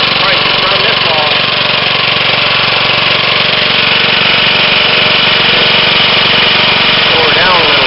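A 1965 Briggs & Stratton 2.5 horsepower lawnmower engine with a welded valve area runs right up close. It makes a loud, continuous, buzzy chug that never lets up.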